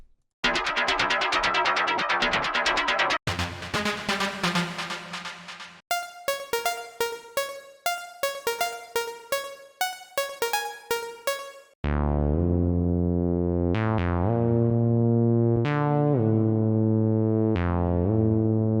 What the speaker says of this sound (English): you can definitely hear this plasticky analog sound